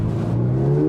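A 2024 Subaru BRZ tS sports car engine revs upward in a quick, loud burst, its pitch climbing sharply over less than a second toward a high-revving note, with no talking.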